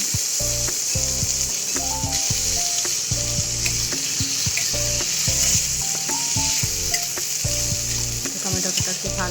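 Chopped tomatoes frying with spices in a pan for a vegetarian banana-flower dish, a continuous bright sizzle with repeated scraping and clattering of a spoon stirring close up, no speech.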